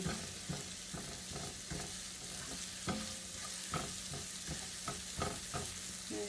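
Garlic and onion soften in a pan for black bean tostadas, giving a continuous close sizzle broken by regular clinks and scrapes of stirring.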